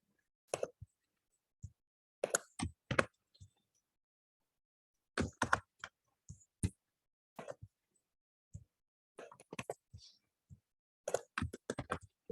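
Scattered clicks of typing on a computer keyboard, near and fairly quiet, in short irregular bursts with silent gaps between them.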